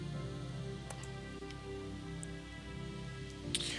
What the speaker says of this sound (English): I don't know if I ever noticed the rain before.